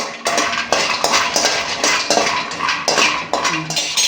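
Almonds dry-roasting in a pan while being stirred, a steady loud run of scraping and rattling nut-and-metal clatter with regular strokes roughly every half second, close up and without speech.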